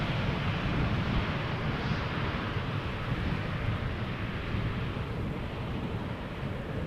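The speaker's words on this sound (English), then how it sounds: "That was KLM flight 1174 having arrived from Stavanger, Embraer 190." A KLM Embraer 190 airliner arriving at Schiphol from Stavanger gives off a broad, steady roar outdoors, rumbling and rushing at moderate distance and slowly fading, with wind noise mixed in and nobody speaking.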